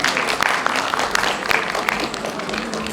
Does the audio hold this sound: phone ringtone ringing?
no